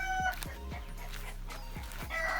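Chickens on a farm: several short, sharp clucking calls, close by and fairly loud, over a steady background hum.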